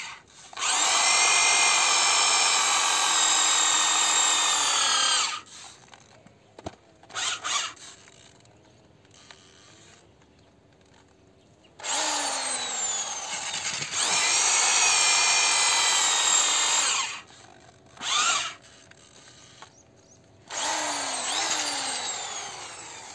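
A power auger bores post holes in the ground in several long, loud whining runs separated by quiet pauses and brief short bursts.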